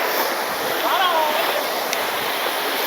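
Keralamkundu waterfall gives a steady, loud rushing roar of falling and splashing water, continuous and unbroken throughout, with people bathing in it.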